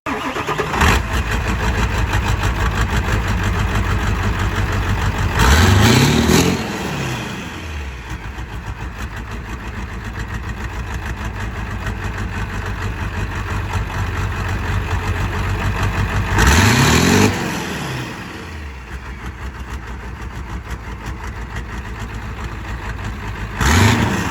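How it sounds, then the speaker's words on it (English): A 600-horsepower 7.3 Powerstroke diesel truck engine cranks and fires twice, each start a loud burst before it settles into a steady, close, rumbling idle that fills the whole stretch. "I'm gonna start it up for you guys, and we're gonna take it out on the road."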